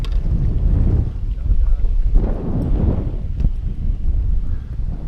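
Wind gusts buffet a fishing boat on open water, a steady low rumble of wind noise across the microphone with swelling gusts, while people talk faintly in the background.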